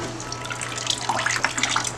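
Water draining and splashing from tree-fern panels lifted out of a peroxide solution, a steady close trickle with brief drips and splashes over a faint low hum.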